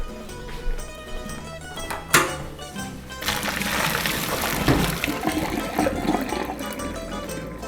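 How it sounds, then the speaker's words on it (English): Pasta water from cooked spaghetti being drained, first a few splashes, then a sustained rushing pour of water that fills most of the second half, close and fairly loud. "Once that drains, then you want to dump that into the bowl"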